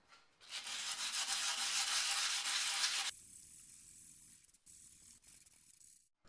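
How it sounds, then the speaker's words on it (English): Harsh, continuous abrasive scraping like a wire brush or sander grinding rust off a BMW E30 Touring exhaust, loud for about three seconds, then quieter intermittent rubbing and scuffs. "we need to remove the rust."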